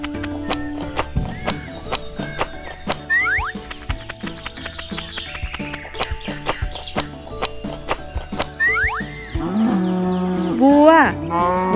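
A cow moo plays among bright toy sound effects and music in a children's video about painted wild animal toys, with short, repeated animal calls at close range.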